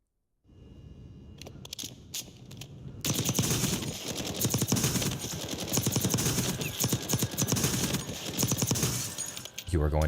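Amax rifle fire in Black Ops 6, a short burst and then long sustained automatic bursts of rapid, loud, dense shots, with a quieter stretch before the heavy firing begins.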